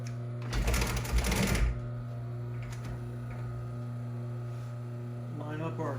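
A sewing machine stitching dining seat covers in an upholstery shop runs in a loud burst near the start, then a steady electrical hum continues with a brief mechanical rattle near the end.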